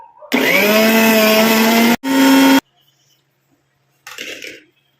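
A mixer grinder whirs loudly while grinding a henna and mustard paste, a steady motor whine running for about two seconds, a brief pause, then a short second burst before stopping, followed by a faint rustle.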